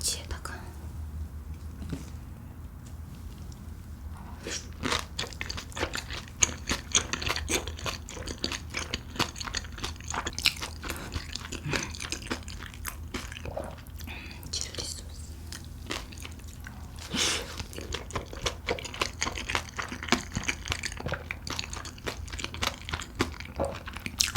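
Spicy kimchi dumplings and meat dumplings from Jecheon, with red rice-flour wrappers, chewed close to the mic in a mukbang, giving steady wet chewing and soft crunchy bites with occasional whispering over them.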